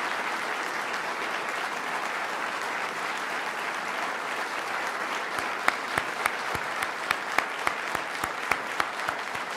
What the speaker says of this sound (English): Let's give a big round of applause to Governor David Patterson